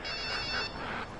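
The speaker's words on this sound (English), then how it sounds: "We're ready for the cell phone, calling the cell phone spark test." Cell phone ringing from an incoming call during a spark test, a short electronic ringtone tone held steadily over quiet background.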